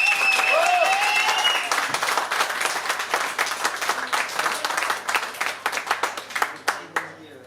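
Concert audience at a music venue in Nice claps loudly and steadily, a dense applause that sustains for several seconds, with a brief high tone and voices at the start.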